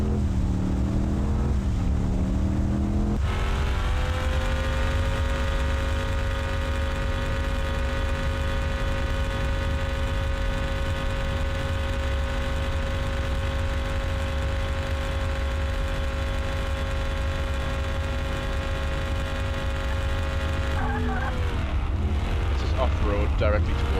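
Truck engine in the video game Tornado: Research and Rescue, driving off-road as a steady, loud droning hum with a sustained tone, rising and shifting in pitch at the start and near the end.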